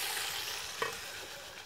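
Okra goes into a pot with meat and beans, a steady close sizzle of cooking with one soft brief plop as it drops in.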